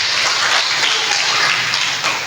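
Steady applause from a church congregation during a sermon, dense and continuous clapping filling the room at a loud, even level for the whole stretch.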